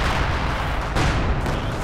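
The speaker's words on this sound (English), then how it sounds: "Howitzer once more fires point blank in the hopes of getting some Panzer Grenadier." A howitzer firing point blank in the video game Company of Heroes 2, heard as a loud, dense roar of blast and rumble that fills the whole moment without a break.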